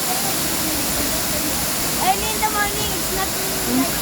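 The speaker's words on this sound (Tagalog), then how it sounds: "nag enjoy siya doon sa falls na galing doon sa bundok" A loud, continuous roar of a mountain waterfall in Puerto Galera rushing without pause, with faint voices barely surfacing in the background.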